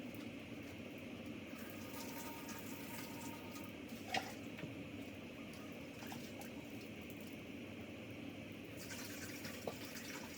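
Water poured into a cooking pot in a village kitchen, a steady continuous splashing pour lasting the whole stretch, moderately faint, with a brief clink midway and no talking.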